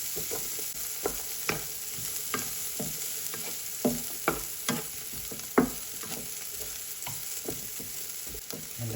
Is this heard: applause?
no